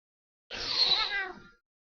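A single cat meow, fairly close and clear, rising then trailing off over about a second amid otherwise silent surroundings.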